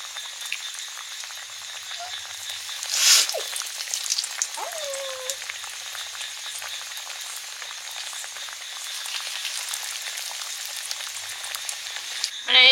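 Lote fish (Bombay duck) chops fry in a wok of hot oil, a steady close-up hiss and crackle sustained throughout, with a brief louder clatter early on and another at the very end.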